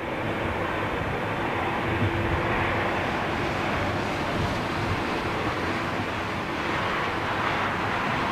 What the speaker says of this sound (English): oh, you can hear them starting, man. Number one started up.